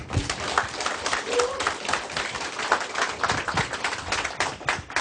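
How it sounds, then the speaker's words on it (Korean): An audience at a business presentation claps together, a moderate burst of hand claps filling the room evenly for several seconds, with a faint voice briefly underneath. "박수 한번 부탁드리겠습니다"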